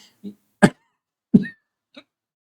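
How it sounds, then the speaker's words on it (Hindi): Two sharp coughs a moment apart, close and fairly loud, with a couple of softer throaty sounds before and after. "इसलिए थोड़ा खांसी आ गया"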